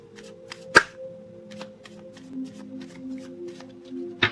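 Tarot cards being shuffled during a reading, a few soft riffling and tapping sounds with one sharper snap near the start and another at the end, close and quiet with no voice.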